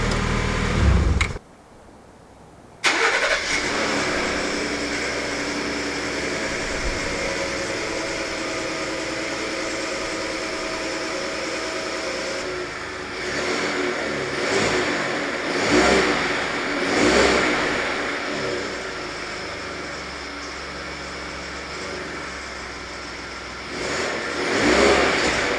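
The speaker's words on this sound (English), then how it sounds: "I'm not gonna rev the truck too high." A work truck's engine runs loud and close throughout, a short silent gap near the start, then steady mid-pitched running with several moderate revs rising and falling toward the end.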